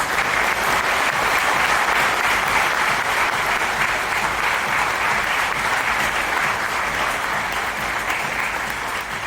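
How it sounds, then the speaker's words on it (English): At an awards ceremony honouring achievers with disabilities, a large hall audience gives loud, continuous applause as a trophy is presented, a thick unbroken wall of clapping lasting around nine seconds. "Can we have a loud round of applause,"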